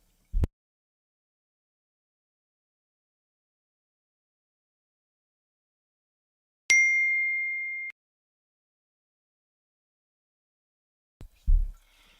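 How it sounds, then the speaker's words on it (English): A single bright electronic ding tone, held for about a second, rings out clean in near silence, with a couple of faint dull thumps before and after it. "That was just a notification sound."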